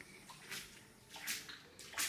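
Footsteps slosh through standing floodwater on the floor of a flooded university testing center indoors, three or four soft, splashy steps at an even walking pace, fairly quiet and close, with no talking.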